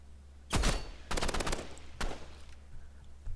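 Assault rifle fire in the Rivals video game: three loud automatic bursts, a short one near the start, a longer rapid rattle after, and a brief final burst, over a steady low hum with no talking.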